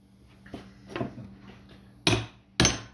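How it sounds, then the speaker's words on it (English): A hammer taps in the wedge clamp of a Farmall Cub cultivator: two light knocks followed by two sharper, louder metallic strikes, close and isolated, with no talking. "Hit it, smack with a hammer"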